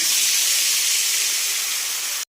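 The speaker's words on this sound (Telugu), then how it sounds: "కొంచెం ఎగ్స్ని వేగనీయాలి కొంచెం ఒక కలర్ వచ్చే వరకు" Eggs fry in hot oil seasoned with chili powder, turmeric and salt in a pan, giving a loud, steady, close sizzling hiss that cuts off abruptly at the end.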